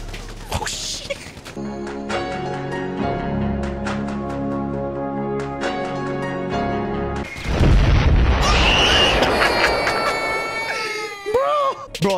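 Heavy rocket blasts and gunfire from a GTA 5 online firefight, with a dense burst of explosions near the end, booming and close, layered over game music and mixed with occasional voice.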